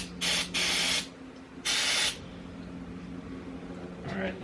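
Electronic parts cleaner hisses from an aerosol can in two loud, close bursts into a Toyota Tacoma's mass airflow sensor, followed by a quieter stretch with faint handling noise.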